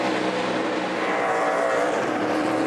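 A NASCAR stock car roars past at Indianapolis during qualifying, a loud sustained engine drone that holds steady and close without any voices.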